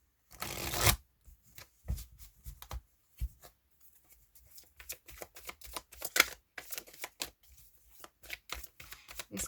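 Tarot cards being shuffled at close range: a loud riffle burst at the start, then a long stretch of quick, uneven flicking and tapping as the deck is worked by hand.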